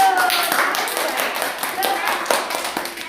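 Young children in a church kindergarten class clap together in a loud, quick, uneven patter of hand claps, with voices mixed in.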